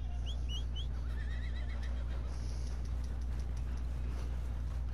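Horse neighs and whinnies in a video game, a high wavering call repeated in quick bursts near the start over a steady low game hum, with faint clip-clop movement underneath.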